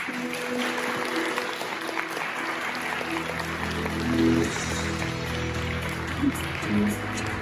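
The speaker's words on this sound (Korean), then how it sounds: "박수로 모셔보겠습니다" An audience at a Hyundai Motor Group technical presentation claps steadily in a broad, continuous wash of applause, moderately loud, with a few faint voices underneath.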